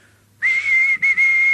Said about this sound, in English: Now look, whistle when you are ready